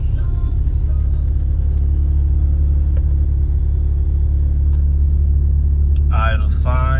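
A 7th-generation Honda Accord engine idles just after starting, following a fuel return line installation: a loud, steady, low rumble close by, with a brief voice near the end.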